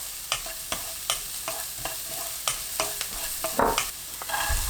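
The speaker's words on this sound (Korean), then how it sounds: "당근 넣고 20초 볶습니다" Carrots sizzle in a pan after scallions softened in melted butter over medium-high heat, with a spatula scraping and stirring in irregular strokes over a continuous close frying hiss.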